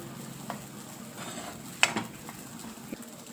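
Food frying in oil in a pan is stirred, giving a low steady sizzle with a few scattered scrapes and clinks of the spoon against the pan.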